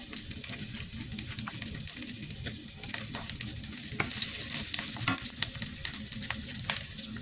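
Garlic and onion stir-fried in a hot pan for pork udon, a steady close sizzle broken by repeated scraping and stirring strokes, with no talking.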